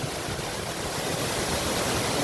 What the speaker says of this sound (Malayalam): അതിമനോഹരമായ ഒരു വാട്ടർഫാൾ.